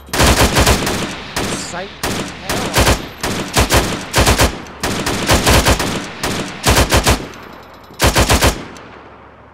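Arma 3 gunfire comes in loud, close, rapid automatic bursts, several rounds each, broken by short gaps across the whole stretch. A brief spoken word sits among the shots.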